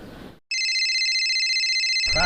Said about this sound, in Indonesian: Nah, euy, aya telepon si Baron yeuh